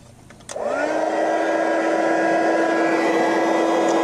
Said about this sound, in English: So now I'm going to heat emboss that.